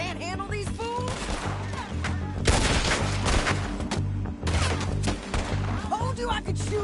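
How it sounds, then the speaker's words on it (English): A Red Dead Redemption 2 shootout sends rapid, close gunshots cracking in irregular bursts, mixed with shouting voices and a background music bed. "Told you I could shoot a gun, didn't I?"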